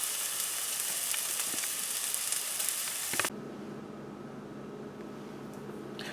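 Spinach, mushroom and sausage sizzle steadily in a pan, a loud continuous frying hiss that cuts off abruptly partway through, leaving a quieter low hum.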